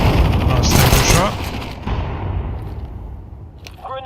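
Video game gunfire: a dense, loud burst of rapid shots in the first second, then a rumbling decay and a quieter tail as the firing stops.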